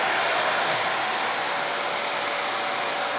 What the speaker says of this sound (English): It's fun to vacuum, isn't it?